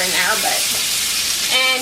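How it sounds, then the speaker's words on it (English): Steak sizzles steadily in butter in a pan, a loud continuous frying hiss with a brief scrape as the meat is flipped near the end; no talking. "I'm putting down another tablespoon of butter, and I'm going to flip our steak over"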